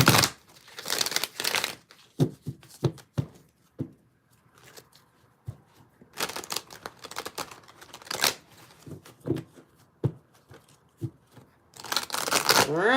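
Playing or tarot cards are shuffled by hand in repeated riffling bursts separated by quieter gaps of soft handling clicks, close to the mic with no talking.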